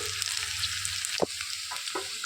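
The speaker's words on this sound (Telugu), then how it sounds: "ఉల్లిపాయలు అనేవి కొంచెం రంగు వచ్చే వరకు వేయించేసుకోవాలి" Sliced onions and curry leaves fry in a pan for a cluster bean stir-fry, making a steady close hiss of oil with a couple of sharp stirring knocks, no speech.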